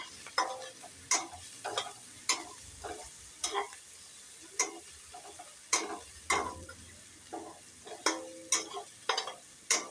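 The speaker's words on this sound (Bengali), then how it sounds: "রসুন, আদা, কাঁচা লঙ্কা চপ করে যেটা রাখা আছে সেটা দিয়ে দিলাম। এটা একটু ভেজে নেব।" Chopped garlic, ginger and green chilli fry in hot spiced oil tempering for a winter radish ghonto, with a steady soft sizzle broken by a dozen or so sharp, regular stirring scrapes and clicks, close and fairly loud.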